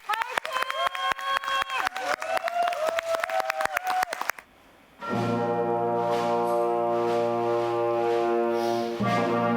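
Audience applause for a high school wind band. About four seconds of steady clapping runs under a voice, then it breaks off as the band enters with loud sustained chords.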